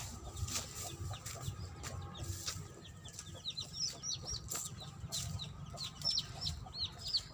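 Big chickens cluck near a rice field, giving off repeated soft clucks and a few higher squawks at moderate volume amid faint outdoor background noise, with no speech.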